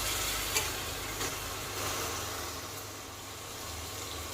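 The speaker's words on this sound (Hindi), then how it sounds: "ये हरी मिर्च और अदरक लहसुन का पेस्ट ये भी हम इसमें मिला लेंगे। और इनको भी लगभग हम 1 से 2 मिनट भून लेते हैं।" Green chili and ginger-garlic paste fry in a pan for stuffed parwal, giving a steady close sizzle with a few light stirring knocks and no talk.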